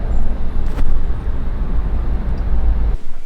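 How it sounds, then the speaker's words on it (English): Road traffic roars in a loud, dense wash of engine and tyre noise close by, steady throughout, with one brief passing swell before the sound drops off abruptly near the end. "The traffic."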